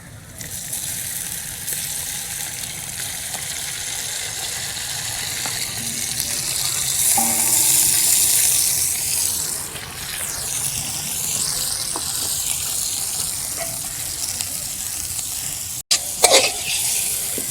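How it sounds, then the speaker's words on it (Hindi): Boneless chicken with crushed garlic sizzles steadily in a hot pan while being stirred, a continuous close frying hiss with a few scraping clanks near the end. "अब चिकन को लहसुन में अच्छी तरह मिक्स कर लें ताकि ये फुल तरीके से फ्राई हो जाए।"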